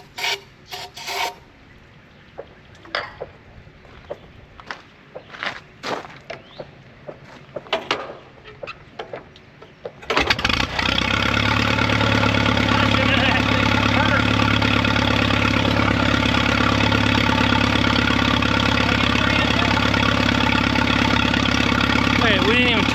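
A 1936 barn-find tractor engine fires on starting fluid after about ten seconds of clunks and handling noises, then runs loud and steady with a rough rasping idle to the end.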